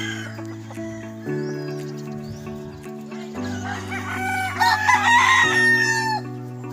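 Young roosters and chickens on a Filipino farm crow one after another in long drawn calls, loud and close, with clucking and other fowl calling behind them.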